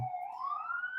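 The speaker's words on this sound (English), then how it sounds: "can you hear that siren in the background?" A faint siren wails in the distance, a single tone slowly rising in pitch over a quiet background.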